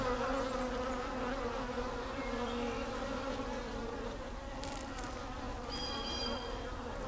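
Honey bees drone steadily in an open hive during a light rain, a dense continuous buzz filling the whole stretch with a few brief higher whines near the end.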